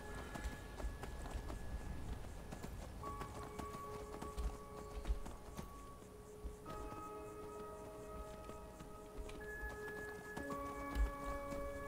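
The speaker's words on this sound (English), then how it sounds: "as soon as I saw Frost, I thought, yeah, that's my horse now" The horse Frost gallops in Skyrim, its hooves clip-clopping in a steady rapid rhythm over game music with sustained tonal notes, with a brief faint neigh possible.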